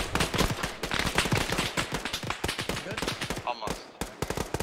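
Rapid, dense bursts of incoming gunfire crackle nonstop in an ARMA 3 mechanized battle, many sharp reports stacked closely together with radio chatter mixed in.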